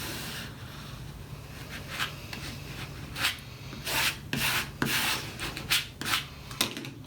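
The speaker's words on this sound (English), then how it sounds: "So you want to burnish it down onto that transfer mask." Heat transfer vinyl being burnished onto transfer mask, with a steady rubbing and scraping texture and scattered louder strokes close up.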